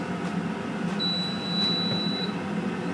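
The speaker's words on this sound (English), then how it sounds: "It beeps for 6 seconds, and then I heard it click" A single steady high-pitched beep from a Scoville 12-litre air fryer oven with rotisserie lasts just over a second, heard over a low fan-like hum.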